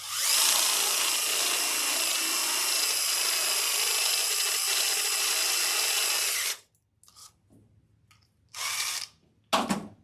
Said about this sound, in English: We're just going to drill these out.